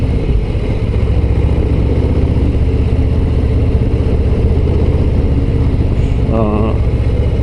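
A Harley-Davidson Low Rider ST cruiser with its 117 cubic inch engine runs close and loud with a deep, steady rumble throughout, and a voice briefly cuts in near the end.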